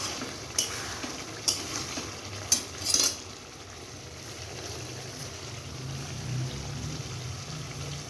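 Mutton curry with potato stir-fried in oil in a pot: a low, steady sizzle runs throughout, with a few sharp spoon-against-pan scrapes and clinks in the first few seconds, then continuous quiet frying.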